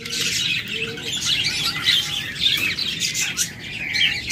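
Lovebirds sold as breeding pairs at a market chirp in a rapid, busy twitter of high calls, continuous and fairly close, with no talk over them.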